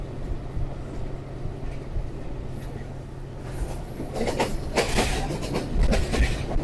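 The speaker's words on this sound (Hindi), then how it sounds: "बदोमली की तरफ बढ़ रही है ट्रेन आहिस्ता आहिस्ता।" Sialkot Express passenger train rolling slowly toward Badomali, a steady low rumble with rail clatter building in the second half, heard from on board.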